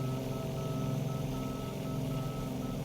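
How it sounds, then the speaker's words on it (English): Steady, fairly quiet beeping tones repeat under a constant engine drone inside a Beechcraft 18 in Microsoft Flight Simulator 2020, signalling connection to the ILS approach frequency for Kalispell, with no voices. "So that beeping you hear is for the ILS approach for Kalispell"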